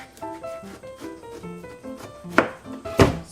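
A small kitchen knife cuts through a large winter melon, two sharp chopping thuds landing late over light background music with a plucked melody.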